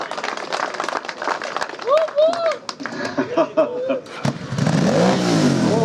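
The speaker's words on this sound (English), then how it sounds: "Big cheer for the V-twin." Crowd claps and cheers for a classic V-twin motorcycle at a paddock show in Stafford, scattered applause and shouts with someone speaking over it, followed by a rising engine rev near the end.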